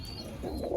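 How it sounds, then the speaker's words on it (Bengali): A pair of Kamagar pigeons in a home loft setup, giving soft low cooing over faint background noise, close and brief. "এক জোড়া কামাগার পায়রা"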